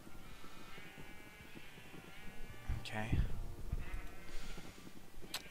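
Sheep bleat in an arcade video game. The short bleats sit under a player's chatter and the game's ongoing background sounds.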